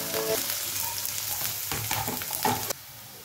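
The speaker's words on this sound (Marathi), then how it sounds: "कांदा टाकून घेऊया।" Finely chopped onion frying in oil in a kadhai, a loud close sizzle with bursts of stirring and scraping that eases toward the end.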